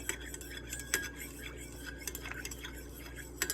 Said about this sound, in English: So we just give this a stir.